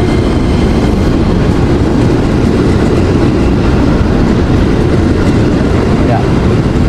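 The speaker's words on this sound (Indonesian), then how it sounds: "KRL ke Jakarta Kota ini dari Bogor." A KRL commuter train running from Bogor toward Jakarta Kota, heard from inside as a loud, continuous rumble and rattle of wheels and carriage with no letup.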